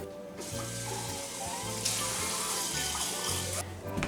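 Tap water runs steadily into a kitchen sink to wash potatoes, a continuous close splashing rush with faint clatter and shifting flow throughout.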